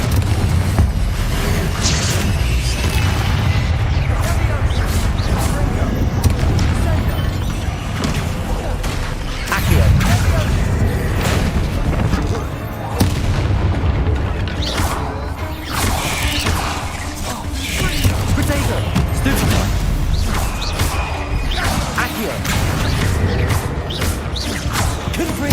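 Confringo fire spell blasts in Hogwarts Legacy, heavy booming explosions and crashing impacts in a dense, continuous loud battle mix with music and game voices.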